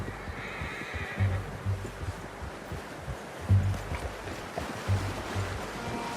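A horse whinnies several times in Red Dead Redemption 2, the low, snorting calls coming in bursts over a steady wash of ambient outdoor noise, with hoofbeats faintly audible.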